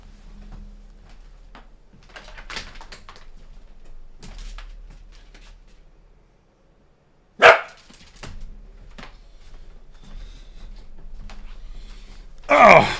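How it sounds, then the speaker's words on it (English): A pet dog named Max gives a single short bark at someone outside, preceded by quiet room noise and faint soft sounds, with another brief loud burst near the end. "Max made a little bark. He thought somebody was outside."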